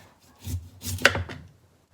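A few quick knife chops finely cutting broccoli on a cutting board, close and crisp, with a short pause between bursts.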